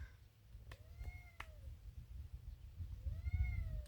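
A cat meows twice, a short call and then a longer, rising one after a pause, close to the recorder over a low background rumble.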